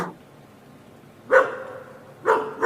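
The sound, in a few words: dogs barking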